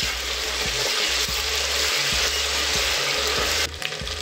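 Ginger garlic paste sizzling with spices in a hot pan while cooking basmati pulao, a steady close frying hiss with low rhythmic stirring scrapes throughout.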